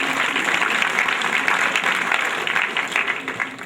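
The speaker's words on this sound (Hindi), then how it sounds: "इनको बड़ी तालियों से इनका स्वागत कीजिए" Steady applause from a crowd, a dense wash of clapping that holds level throughout.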